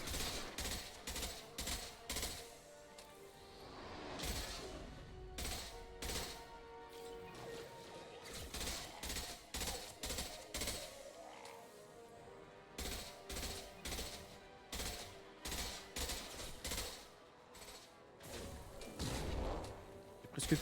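Rapid bursts of gunfire in the video game Mass Effect 2, loud repeated volleys with crashing impacts filling most of the stretch, alone without talk.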